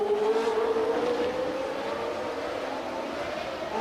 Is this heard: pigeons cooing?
no